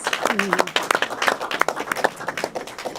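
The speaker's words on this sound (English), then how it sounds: "Please give him a warm aloha and a round of applause." Audience applause greets a World War II flyer at a commemorative event in Hawaii: dense, steady clapping from a crowd with a voice rising briefly over it near the start.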